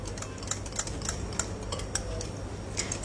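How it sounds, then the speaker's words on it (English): A whisk beats egg-free cake batter made with yogurt in a bowl, producing quick, close, light clicking taps in a steady rhythm. "So mix it and whisk it really, really well."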